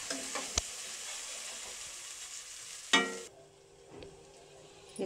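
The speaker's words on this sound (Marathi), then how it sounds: "चांगलं एकदम परतून घेतले की मस्त भाजते तेलामध्ये" Onion, ginger and garlic fry in oil for a village-style black mutton dish, a steady close sizzle with a sharp stirring scrape near three seconds, after which the frying drops to a quieter hiss with occasional soft clinks.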